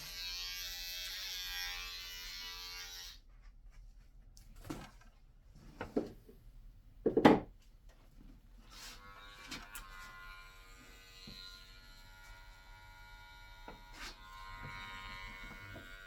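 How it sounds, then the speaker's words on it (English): Electric razor clippers cutting hair for a mullet, a steady mid-pitched buzzing hum for the first few seconds, then quieter handling sounds, clicks and a sharp knock, with faint buzzing returning later. "We're going to grab that razor and put it on him and see what he's working with"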